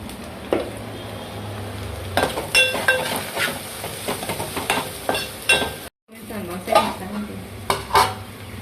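Onions fry in a tempering in a pan for an egg tomato curry: a soft continuous sizzle under repeated clinks and scrapes of a utensil stirring against metal, with a brief gap near the end.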